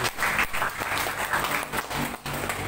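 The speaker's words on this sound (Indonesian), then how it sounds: "Tepuk tangan buat" Seated audience at a company gathering in Lombok applauding: continuous mid-level clapping with a slight dip near the end, heard alone without speech.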